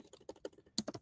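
Rapid typing on a computer keyboard, close and crisp, with uneven clusters of keystrokes and a louder burst near the end.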